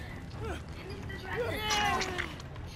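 A cat meows a few times near food, its short rising cries over a steady low background hum, with a human voice speaking faintly nearby.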